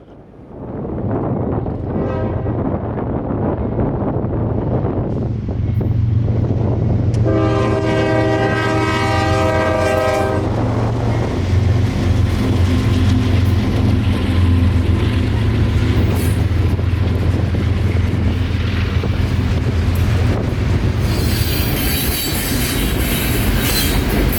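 A freight juice train rolls past at a Bradenton grade crossing, a long loud horn blast sounding near over steady rumbling wheels and railcar clatter that continue throughout.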